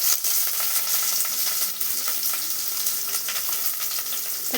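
Onions sizzle in hot oil with cumin, mustard seeds and curry leaves while an alasanda snack is being cooked, giving a steady, close, crackling fry without a break.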